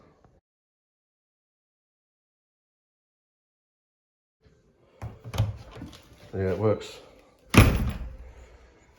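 After silence, a replacement door is pushed shut with a few wooden knocks and a firm thunk onto the latch; someone speaks briefly between them.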